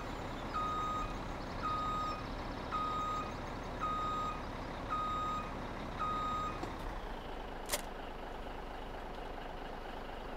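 Truck reversing alarm in Farming Simulator 17 while hooking up a trailer: evenly spaced beeps over a steady idling diesel drone, stopping partway, followed by a brief hiss like an air brake.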